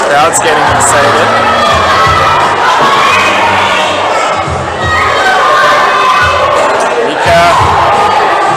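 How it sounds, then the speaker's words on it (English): Spectators cheer and shout at a provincial top rope climbing final, a loud continuous crowd roar with excited yells and whoops, and a commentator talking over it. "Crowd's getting excited."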